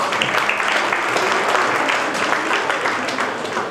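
Loud, sustained applause from an audience at a Hindi-language memorial award ceremony, honoring award recipient Nazia Bano, with dense continuous clapping throughout.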